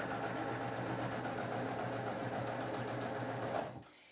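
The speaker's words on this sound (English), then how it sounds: "We're going to sew those half square triangles together." A sewing machine runs steadily as it joins half square triangles with a quarter-inch seam, its humming motor whirring nonstop for several seconds before it stops abruptly near the end.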